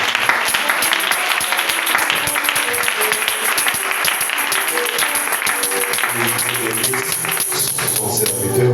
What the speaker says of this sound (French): Est-ce qu'on peut encore acclamer pour la parole?